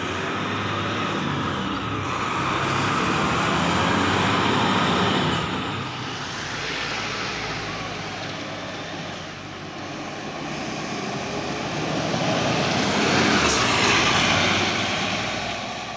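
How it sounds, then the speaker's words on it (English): Steady engine drone and road rumble inside the 702 intercity bus leaving Hobart, Tasmania, a continuous broad roar that swells and eases gently, with no talk. "we're on the 702 bus leaving Hobart."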